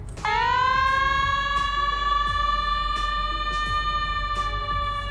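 Third siren tone of a Greenville Fire Rescue vehicle in a Roblox game, a loud steady electronic wail holding one pitch with strong harmonics, sounding continuously throughout without talk.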